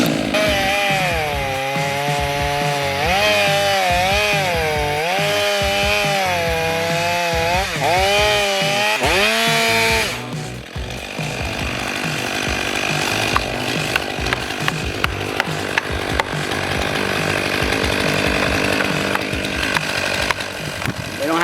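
A chainsaw bore-cuts into a standing tree trunk during felling: the engine revs loudly with a wavering pitch, then settles into a steady, rough, close-up cutting drone with brief bumps as the bar bites through the wood.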